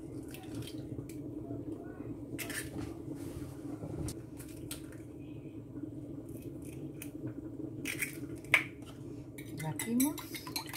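Eggs are beaten in a bowl with a utensil, producing light, irregular clinks and taps against the dish over a quiet kitchen background, with faint voices at moments.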